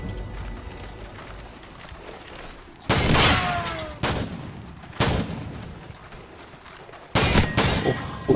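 M1014 shotgun fire in Call of Duty 4 on the Shipment map: four sharp, loud blasts spaced a second or more apart, each with a short ringing tail, over a low game background.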